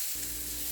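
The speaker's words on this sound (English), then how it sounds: "So I'm going to add my butter." Butter, about four tablespoons, hits a pot of cooked yellow rice and breaks into a loud, close, continuous sizzle.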